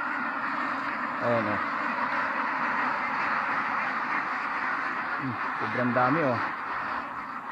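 Ducks quack in two short bursts on a duck farm with no shade shelter over the birds. Someone talks over steady background noise.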